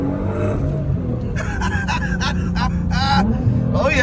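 A boosted 600 HP all-wheel-drive Nissan GT-R accelerating on a ride-along, a loud rising engine roar from inside the car with excited voices talking over it.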